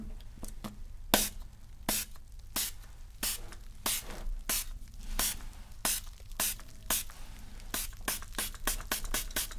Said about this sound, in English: I'll just spray a little bit on you.